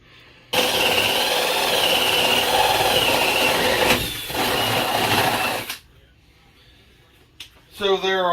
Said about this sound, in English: make my hole to bring my wire up to the electric box